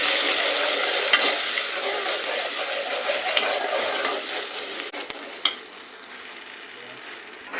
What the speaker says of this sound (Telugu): ఇప్పుడు ఈ మసాలా అంతా కలపాలి.